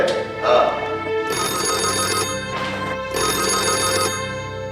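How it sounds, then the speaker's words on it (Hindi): A telephone rings loudly in a Hindi crime drama, its bright electronic ring sounding in repeated bursts separated by short pauses, with no talking. "डॉक्टर सुबोध का फोन है।"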